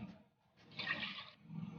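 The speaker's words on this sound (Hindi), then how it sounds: "पहले 3 कप में पानी डालूंगी।" Water is poured from a cup into a cooking pot for a mutton and onion dish, making a short gushing splash that swells and fades within a second, close and fairly quiet.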